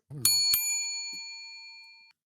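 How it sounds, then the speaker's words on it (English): A bell rings twice in quick succession, two bright metallic strikes whose clear tone hangs and fades over about two seconds, heard alone in a quiet room. "That was the double bell"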